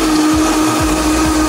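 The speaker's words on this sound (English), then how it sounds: "And now we begin to blend." Blender running steadily at high speed, blending pineapple, strawberry, coconut rum and lemonade into a daiquiri, a loud continuous motor whir with a faint periodic churning rhythm and no talking.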